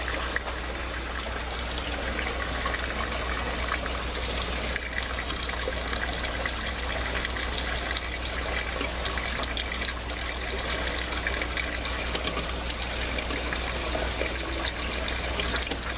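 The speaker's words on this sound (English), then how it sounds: "There, the water's flowing" Water flows and trickles steadily through an aquaponic tower, a continuous close wash of splashing with no talking.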